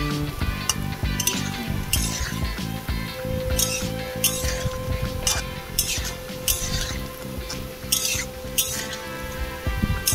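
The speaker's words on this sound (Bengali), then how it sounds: "আমি এবার ভালো করে নেড়ে চেড়ে এগুলোকে বেশ লাল লাল করে ভেজে নেব" Tal fritters, made from palm fruit, fry in a pan as a utensil stirs them, giving repeated sharp metallic clinks in an uneven rhythm over a soft, steady sizzle.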